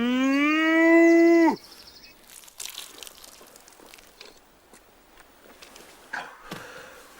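A single loud cow moo, rising and sustained for over a second, followed by quieter crunching and rustling sounds.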